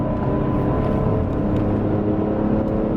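Engine of an Alfa Romeo Stelvio Quadrifoglio pulling hard under acceleration with manual shifting, a loud steady engine drone heard from inside the car.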